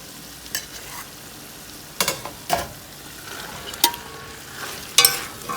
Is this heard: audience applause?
no